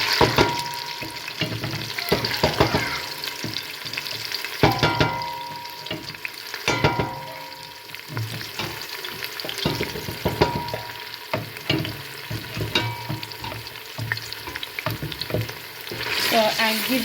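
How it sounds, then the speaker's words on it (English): Tomato paste fries in a pot for Nigerian jollof rice while a spoon stirs it steadily, giving a continuous sizzle with repeated scraping strokes against the pot, close and fairly loud throughout. "So and give it that beautiful stir"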